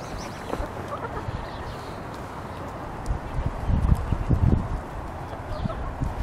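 Backyard chickens clucking and fussing as they're let out of the coop in the evening, a busy flock chorus that swells louder midway with scratchy movement noises.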